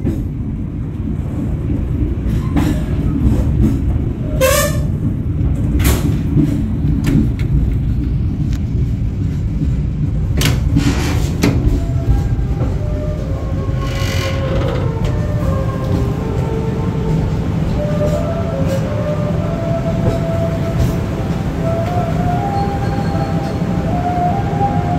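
The Gunung Jati passenger train rolls into Pekalongan station with a loud, steady rumble of wheels on track, punctuated by sharp metallic squeals and clanks as it slows.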